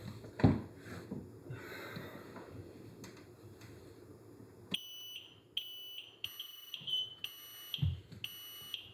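A smoke detector being tested sounds a series of sharp, high electronic beeps, roughly six short chirps in uneven succession after a stretch of quieter handling noise and a few thumps.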